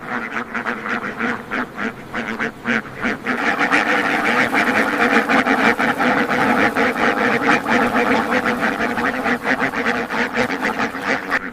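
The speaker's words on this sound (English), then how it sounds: "This is a duck farm in Tipton County, Indiana, home to more than 200 ducks." Over 200 egg-laying ducks on a farm in Tipton County, Indiana, keep up a dense, loud clamor of overlapping quacks that swells after the first few seconds and stays constant, with no talking.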